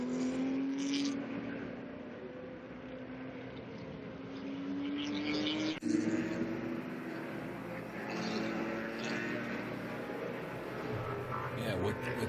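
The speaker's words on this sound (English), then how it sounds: "Look at that number 4 Corvette go." The number 4 Corvette race car's engine drones and rises in pitch as it accelerates, heard at a moderate distance under an excited commentator's voice, with a brief jolt midway.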